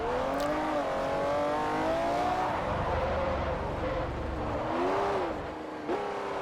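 A McLaren road car driven hard in Forza Motorsport 4, its engine note loud and steady with rising and falling revs as it shifts and accelerates, squirming off a straight line, with no voices over it.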